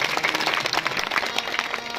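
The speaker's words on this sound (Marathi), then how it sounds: "सगळ्यांनी या दात्यांसाठी मोठे जोराने टाळी वाजवा" Audience at a Marathi kirtan gathering applauding donors, a brief dense patter of many hands clapping together, moderately loud and steady.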